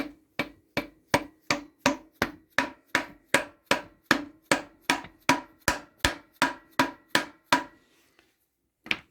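Steady hammer taps drive a prop shaft bearing into place on a Toyota Hilux Surf, about twenty sharp, evenly spaced metallic blows, close and loud, then silence.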